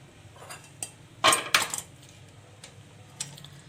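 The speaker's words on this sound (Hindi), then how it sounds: "अब मैं इसे छान लूँगी, ताकि जो इसमें मसाले थे वो मैं निकाल दूँगी," Metal utensils and a pot clink a few times as mutton yakhni is strained, with a cluster of sharp, close chinks in the middle and lighter taps around it in a quiet kitchen.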